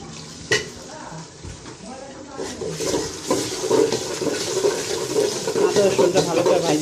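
Ginger and garlic paste frying in a pan over already-browned onions for an Arabian chicken biryani: a steady sizzle with scraping stir sounds that builds in the second half, with a voice talking over it.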